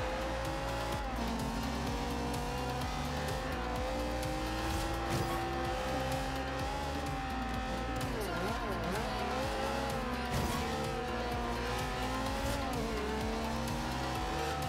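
Ferrari race car engines roar and rev in the Forza Horizon 2 racing game, with shifting engine tones, tire squeals and passing cars, continuous under game music or voices.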